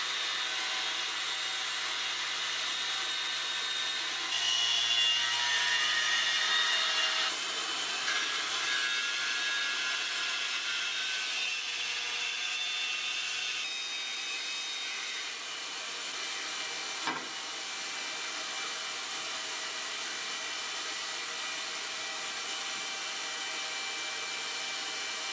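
A die grinder works a sword blade resting on an extended grinding table, giving a long, steady, hissing grind with a few brief shifts in pitch and one sharp tick partway through.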